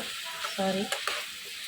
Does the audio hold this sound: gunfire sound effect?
no